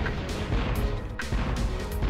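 Cannon shots in the PlayStation game Spyro: Year of the Dragon, heard as sharp repeated blasts about every half second over game music, with no talking.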